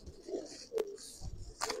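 Giribaz flying pigeons, molting, coo softly inside a loft in a couple of brief, faint murmurs over a quiet background.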